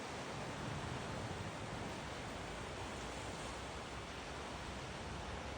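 Waves rolling onto the beach at Odesa on the Black Sea in May form a continuous, even rush of surf, close and fairly soft, with a faint low rumble beneath and nobody speaking.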